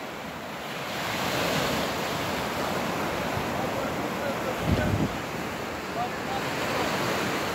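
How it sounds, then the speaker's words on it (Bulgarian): Sea waves at Antalya roll and wash continuously onshore, a broad steady surf roar with some wind buffeting the microphone and a brief louder splash midway. "Ето го и морето в Анталия."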